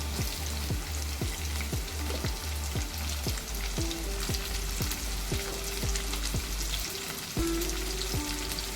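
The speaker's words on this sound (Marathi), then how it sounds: "आता आपण कांदा टाकणार आहोत" Sliced onion frying in a pan of hot oil for an ambadi leaf fry, a steady loud sizzle broken by regular clinks and scrapes of a spoon stirring about every half second, with no voices.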